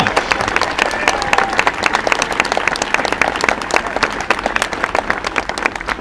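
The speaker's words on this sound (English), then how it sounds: "Oh, we should give a round of applause for the cyclists." Steady round of applause from an outdoor comedy audience at an Edinburgh Fringe LGBT rights gig outside the Russian Consulate, dense and continuous with clapping throughout.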